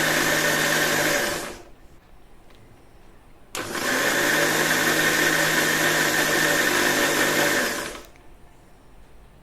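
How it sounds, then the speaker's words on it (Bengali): Electric blender churning cream with cold water into butter, a loud steady whir running about a second and a half, stopping, then starting again abruptly for roughly four more seconds before winding down. "দিয়ে আবারও ব্লেন্ড করে নেব 1 থেকে 2 বার"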